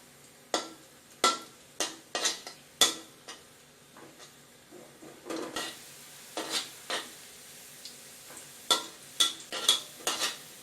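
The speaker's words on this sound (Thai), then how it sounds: "คั่วไปเรื่อยๆอย่าหยุดเดี๋ยวก็จะเหลืองจะไหม้" Thai shallots stir-roast in a pan over low-medium heat, producing a series of distinct scraping strokes of a utensil against the pan with a light sizzle beneath, irregularly spaced, close and clear, with no speech.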